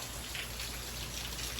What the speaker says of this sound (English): it's raining in Arizona